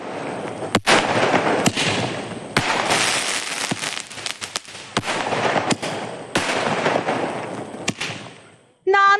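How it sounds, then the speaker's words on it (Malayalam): A Marco 30 aerial firecracker fires a rapid non-stop string of sharp, loud bursts over about nine seconds, each pop cracking out in quick irregular succession. "കത്തിച്ചു വിട്ടാൽ ചുവപ്പ് നിറത്തിൽ 30 ഷോട്ടുകളോടെ നോൺ സ്റ്റോപ്പ് കാഴ്ചയൊരുക്കുന്നതാണ് പടക്ക വിപണിയിലെ"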